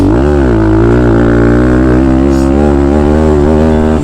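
A Thumpstar TSX140 pit bike engine held at high revs in third gear, a loud, steady buzzing drone that wavers slightly in pitch and stays up close for the whole stretch with no talking.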